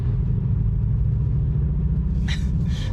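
A 2020 Cupra Formentor DSG with 310 hp, in sport mode, plays a synthetic V8 engine note through its speakers, heard as a steady, close, deep rumble inside the cabin. Two short higher-pitched bursts come near the end.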